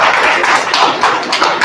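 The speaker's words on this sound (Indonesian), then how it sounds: "Tepuk tangan untuk Banjarejo." Mosque congregation applauding Banjarejo during a religious talk, a short, dense spell of many hands clapping close and loud.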